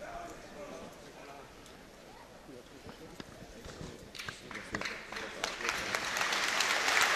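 Crowd applause ringing through a packed arena after a forces boxing bout, starting thin beneath a commentator's voice and swelling into louder, denser clapping by the close.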